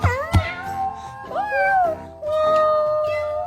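A young child imitates a cat, giving three drawn-out, wavering meows one after another, close and fairly loud, with the last held longest.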